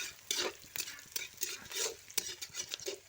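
Food frying gently in a pan on a low flame, with repeated rhythmic scraping strokes of a spoon stirring and soft sizzling, close and clear with no talk.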